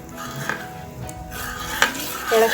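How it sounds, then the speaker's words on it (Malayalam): Thick onion lehyam is stirred in a pot over a low flame, with slow scraping and clanks of a spoon against the metal and a faint bubbling underneath, close and fairly loud. "ഞാനിവിടെ ഇളക്കുവാണ്. അടി പിടിക്കാതെ നോക്കുക. സിമ്മിലാണ് ഇപ്പോൾ ഇട്ടേക്കുന്നത്."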